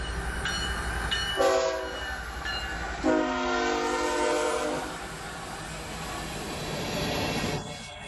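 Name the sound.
train passing a crossing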